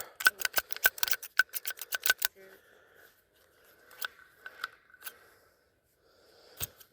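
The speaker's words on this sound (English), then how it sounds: "There's scissors. These Fiskars snips work good." A rapid series of sharp snipping clicks from Fiskars snips, about a dozen in quick succession, followed by a few scattered snips and rustling.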